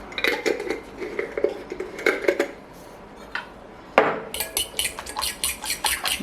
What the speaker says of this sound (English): Give everything a good mix.